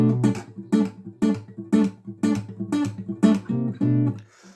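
Percussive acoustic guitar fill, with strings slapped and plucked together in a repeating pattern of sharp, close hits and short ringing chords, nine or so even strikes with no voice.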